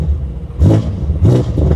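Modified BMW M5 F90 LCI with open exhaust, two quick revs rise and fall close by over a deep idle burble.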